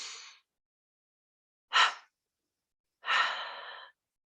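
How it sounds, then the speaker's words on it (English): Slow meditative breathing heard close up in silence: a breathy exhale, then a sharp quick inhale, then a longer relaxed sighing exhale, each separated by quiet pauses. "Let's close this technique with a double breath"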